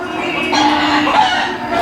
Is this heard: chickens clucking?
yes